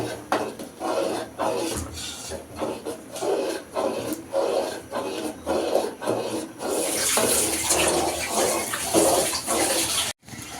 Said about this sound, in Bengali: আরো নাড়ানাড়ি করতে হবে, এটা দুধ মিক্সড হওয়ার জন্য আর ঘন হওয়ার জন্য।